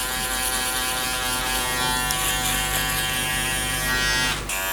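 An Andis foil shaver buzzes steadily against skin, taking hair down at the bottom of a skin fade, a close continuous electric hum with a brief dip near the end.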